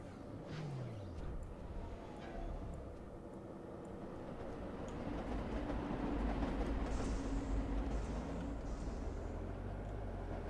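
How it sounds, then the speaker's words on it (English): Two trains run around a track in the Eden Crafters video game, producing a steady rumbling rolling noise with clattering that swells slightly midway, continuous and moderately loud with no voices. "So I got 2 trains going around"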